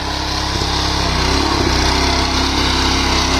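A small tractor engine used at a net house runs close by, giving a steady, loud buzzing drone that holds even throughout, with no talking.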